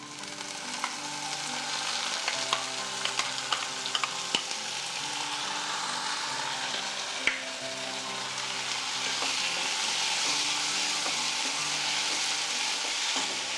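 Chopped tomatoes fry with pirandai in a pan for kulambu, a steady close sizzle with scattered pops and light stirring scrapes, no voices.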